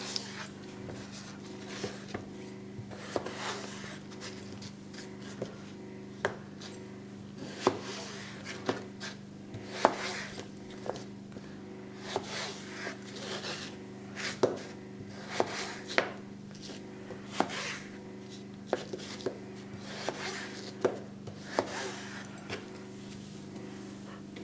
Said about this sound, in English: I know you can get those slicing devices for your chippies,